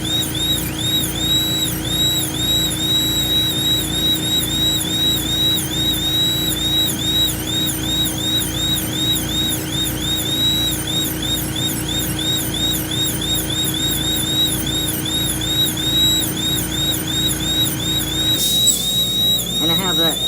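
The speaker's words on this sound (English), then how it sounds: "the other noise you hear is my dust collector" A workshop dust collector drones steadily and continuously throughout, with a high, wavering whine layered on top, while someone works on an ostrich egg shell. The sound stops abruptly near the end.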